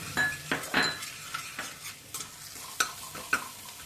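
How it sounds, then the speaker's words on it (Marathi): Garlic paste fries over low heat in a pan as chili powder goes in, a soft steady sizzle broken by several sharp clinks and scrapes of a spoon stirring against the metal, close up with no talking. "तळायची लसूण पेस्ट झाली आता त्यात आपण टाकणार आहे मिरची पावडर"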